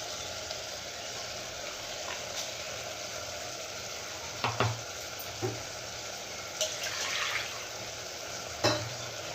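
Mutton with spice paste sizzles steadily in a hot pan, a constant frying crackle broken by a few soft clinks of a stirring utensil.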